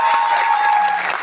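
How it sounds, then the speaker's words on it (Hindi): Dense applause from an audience at a Modicare direct-selling meeting in Banaras, loud and continuous clapping that fills the whole moment, with a voice faintly underneath. "जोरदार ताली दोस्तों"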